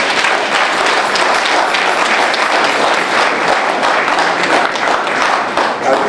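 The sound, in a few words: audience applause for Dr. Chambers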